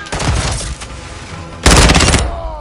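Gunfire in the Call of Duty MW2 multiplayer game, loud and dense: a burst of rapid shots, a short lull, then a harsher, louder volley near the end.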